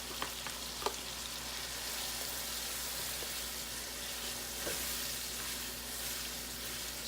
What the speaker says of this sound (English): And to add to the turkey bacon, we're going to put our onions in. Sweat our onions down.